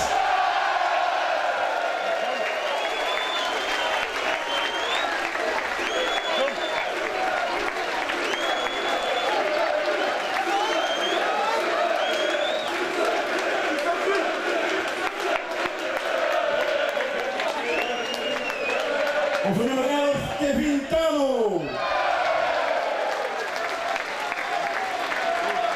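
A football fan-day crowd applauds as a new first-team player is introduced, with sustained clapping, scattered whoops and cheers, and a loud burst of cheering near the end. An announcer's voice sits faintly beneath.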